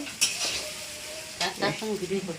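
Food sizzles and fries in a pan over a clay stove while being stirred, with steady crackling and a few louder scraping stirs close by. A faint voice briefly comes through near the end.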